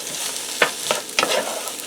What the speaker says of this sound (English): And you just want to stir this periodically